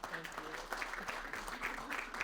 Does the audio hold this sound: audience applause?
yes